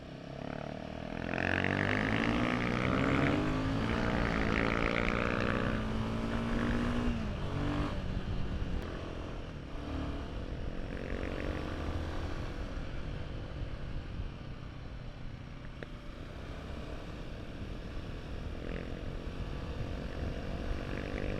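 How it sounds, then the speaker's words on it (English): A Royal Enfield Himalayan 450 adventure motorcycle revs and accelerates on the road, its engine note climbing through gears over the first seconds, then settling into a sustained close, loud drone with wind rush for the rest of the ride. "This engine, bro, it honestly doesn't feel like a Royal Enfield engine"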